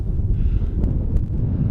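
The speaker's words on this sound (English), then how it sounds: "I know it's windy too." Wind buffets the microphone at a Grand Canyon overlook, a loud low rumble that is continuous and gusty throughout.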